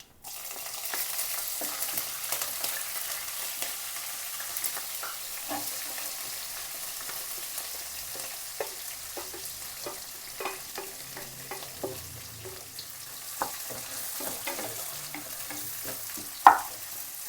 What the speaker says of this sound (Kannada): ಎಣ್ಣೆಯಲ್ಲಿ ಇವಾಗ ಈರುಳ್ಳಿ ಮತ್ತು ಹಸಿಮೆಣ್ಸಿಕಾಯಿನ ಹಾಕೋಣ